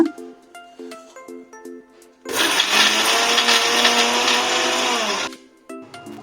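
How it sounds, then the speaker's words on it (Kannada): A kitchen mixer grinder blends a chutney of taro (kesu) leaves, grated coconut, salt and water, whirring loudly and steadily for about three seconds between quieter stretches of a tonal, musical background. "ಚೆನ್ನಾಗಿ ನೀರು ಹಾಕಿ ರುಬ್ಕೊಳ್ಳೋಣ ಇವಾಗ ಮಿಕ್ಸಿ ಮಾಡ್ಕೊಳ್ಳೋಣ"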